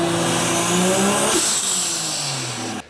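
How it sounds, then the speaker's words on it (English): Turbo blow-off valve on a C10 truck: engine revs climb, then a sharp hissing vent bursts out as the throttle snaps shut, followed by the note falling away and cutting off abruptly at the end. "Plus, I think a blow-off valve sounds cool anyway."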